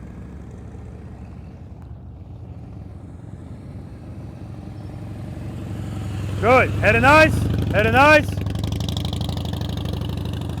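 A motorcycle putters at slow speed during a low-speed riding practice session, its engine a steady low drone under a man's spoken coaching, with a few sharp rising whistle-like tones near the end.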